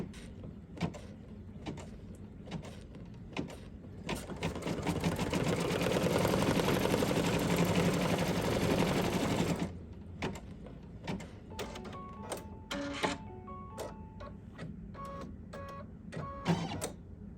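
An embroidery machine stitches down a vinyl applique on a pillow, its rapid needle hammering loud and steady for several seconds amid scattered clicks and handling noises before and after.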